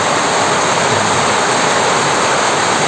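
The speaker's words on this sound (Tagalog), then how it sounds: "Talagang hindi biro-biro yung ulan." Dense, steady roar of heavy rain on a construction jobsite mixed with rushing water, loud and continuous with no breaks or voices.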